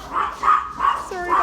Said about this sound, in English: you're about to hear my dog. Dog's bark a little bit.